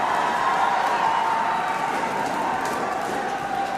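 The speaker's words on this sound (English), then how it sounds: "You can hear the cheer around the ground." A crowd cheering and murmuring around a sepaktakraw court at the ISTAF Sepaktakraw World Cup in Bihar, India, a steady, distant wash of noise with no distinct bursts.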